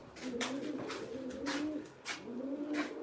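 Pigeons coo in repeated low, throaty phrases, several calls rolling one after another close by, with no talk over them.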